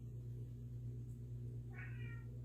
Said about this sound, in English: Can you hear him meowing?